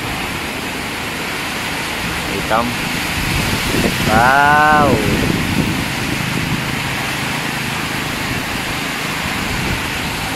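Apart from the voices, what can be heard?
heavy rain and wind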